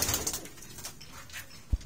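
A pigeon coos softly a few times amid faint background rustling, ending with a brief knock.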